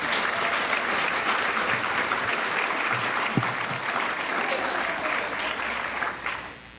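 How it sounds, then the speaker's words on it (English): Audience applause fills an opening ceremony at a nursing association's annual general meeting, a dense, steady wash of clapping that holds for several seconds before tapering off at the end. "Let's have the applause."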